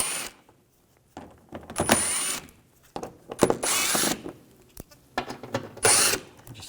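A power tool or ratchet with an 8mm socket drives out panel screws on a 2006-2010 BMW 550i, in three close, loud whirring bursts of about a second each, separated by quiet pauses.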